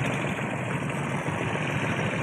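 A boat engine runs steadily on a fishing boat heading back to the dock after checking nets, a constant broadband drone with no pauses and no voices.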